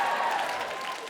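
Comedy club audience applauding and cheering during a stand-up set, a dense wash of clapping that fills the moment and stays steady, tapering only slightly at the end.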